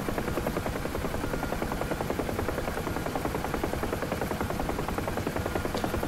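A helicopter in the flight simulator DCS World flying at its top speed limit and shaking, a dense rapid rotor thump with a steady engine roar, loud and continuous throughout.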